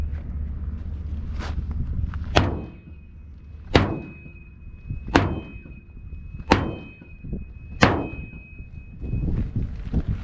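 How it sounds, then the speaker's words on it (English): Six sharp, heavy chopping impacts of a Kriegsmesser sword blade hacking into a card target at steady intervals of about a second and a half, loud and close, with quiet scraping between. "I'm taking the Kriegsmesser and I'm going to hack this card"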